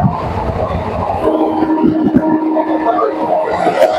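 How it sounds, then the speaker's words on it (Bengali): A Kolkata suburban local train on the Dum Dum to Majerhat route via Ballygunge runs at speed, a loud, steady rumble of wheels and carriage noise heard close from the open doorway. "আর ট্রেনের স্পিড কিন্তু বন্ধুরা সেই নিয়ে নিয়েছে, তোমরা দেখে বুঝতে পারছো।"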